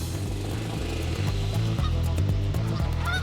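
Loud, close honking from a flock of geese being herded by a working dog, overlapping calls repeating continuously with no talking.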